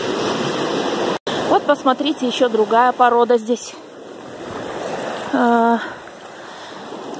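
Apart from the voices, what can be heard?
ocean waves washing on shore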